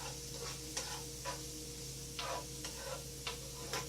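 Fried rice sizzles in a pan while a big slotted spoon stirs it, with a steady frying hiss broken by regular scraping strokes every half second or so.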